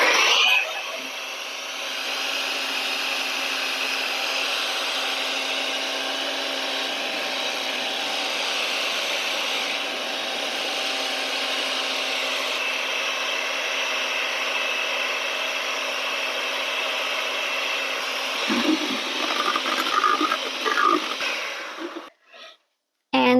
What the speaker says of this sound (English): Still beating with the mixer,